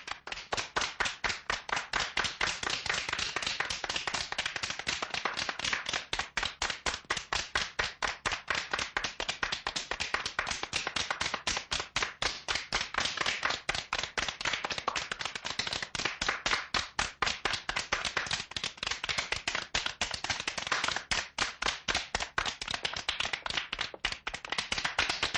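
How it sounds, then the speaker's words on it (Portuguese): A group of schoolgirls claps for a distinguished visitor, a long stretch of crisp, rapid, evenly paced claps, fairly close and clear, with no talk over it. "levantem-se e deem uma salva de palmas a esse ilustre visitante que é o comendador Emanuel"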